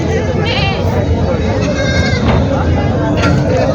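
Osmanabadi goats bleat at the Purna goat market in Parbhani, Maharashtra, several loud wavering calls from different animals over a dense, noisy crowd with constant talk nearby.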